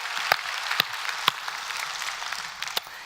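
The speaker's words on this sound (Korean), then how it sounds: "오늘도 우리에게 이 귀한 예배를 허락하신 좋으신 하나님께 박수로 감사합니다" Church congregation applauding during a Sunday worship service, a dense, steady wash of many hands clapping with a few sharper, louder claps standing out, fairly close and continuous throughout.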